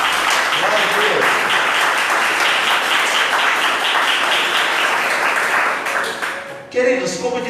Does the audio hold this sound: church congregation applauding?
yes